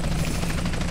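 A helicopter chasing in GTA San Andreas, its steady rotor drone loud and close throughout, with no talk over it.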